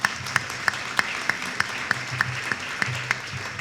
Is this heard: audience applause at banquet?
yes